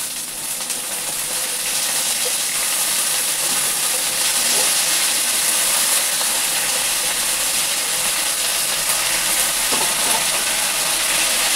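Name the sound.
leafy greens added to hot pan, sizzling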